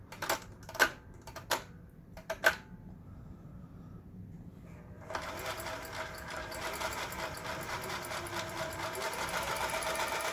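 A Toyota 9600 home sewing machine, just repaired, stitching a straight seam: a few sharp clicks from the mechanism, then a steady close whirring rattle of the needle running continuously and building slightly in speed.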